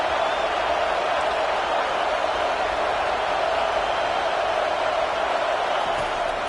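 A football stadium crowd at an Ohio State game roars steadily behind the defense on a big third down, a dense, continuous wall of cheering and noise.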